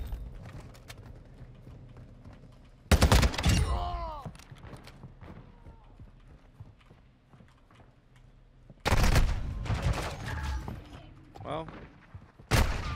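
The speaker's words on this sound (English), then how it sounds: "Oh, it's an LMG." LMG fire in a Call of Duty gun game match comes in two loud, dense bursts of rapid shots separated by quieter stretches, with short cracks near the end and a voice talking in between.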